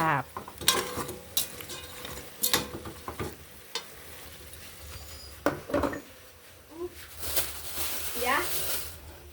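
Pork sinigang with soy sauce is stirred in a pan, giving sizzling and scraping utensil sounds in bursts, and a voice talks over parts of it.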